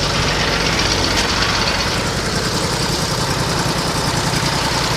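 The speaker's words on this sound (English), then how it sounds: "Grab the tractor here quick." A tractor engine runs steadily at close range near a sawmill, a loud, even mechanical drone that holds without a break from start to finish, with no talk over it.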